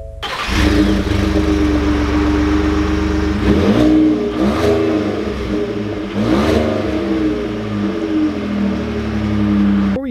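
A 2020 Ford F-150 XLT Sport pickup truck engine starts and revs, then pulls away. The steady, loud mid-range drone swells through repeated acceleration surges, close by and without any talk.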